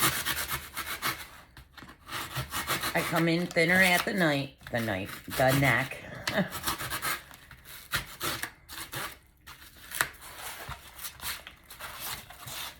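Knife scraping and shaving at wood, a rough rubbing rasp repeated at close range, with someone talking over parts of it.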